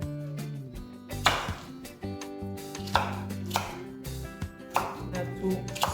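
A knife chops onions on a board for a Jamaican vegan breakfast, sharp repeated thuds in an uneven rhythm with music playing underneath.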